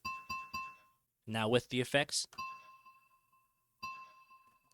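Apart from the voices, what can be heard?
mug ringing sample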